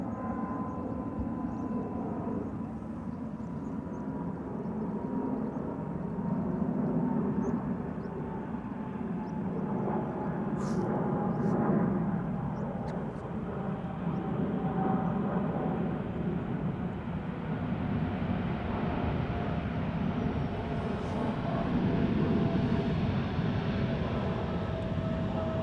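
China Eastern Boeing 777-300ER jet at Amsterdam Schiphol Airport, a long, steady low engine rumble with a gently rising and falling roar heard from a distance outdoors.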